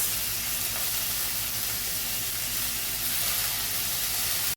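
Papaya, potato, carrot, beans, peas and tomato fry in a pan for vegetable dalia, giving a loud steady sizzle and hiss throughout, close up, with no talk.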